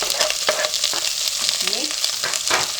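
Onions frying in a pot for homemade beef stew, a loud, close sizzle broken by rhythmic stirring scrapes and spoon knocks against the pot.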